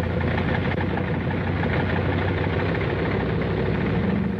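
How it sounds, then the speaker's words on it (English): Several bomber aircraft engines warm up at an airfield in the Aleutians in 1943, a steady, loud, continuous droning rumble with no breaks and no voices. "The sound of the engines warming up starts before dawn,"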